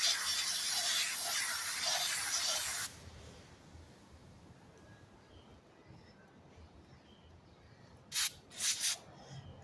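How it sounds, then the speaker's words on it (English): Aerosol brake cleaner sprays onto the CV joint of a 1997 Jeep Grand Cherokee ZJ front driveshaft in one close, loud hissing burst lasting a few seconds, then near quiet with a few short sharp sounds near the end. "Again, I give it a shot of brake cleaner."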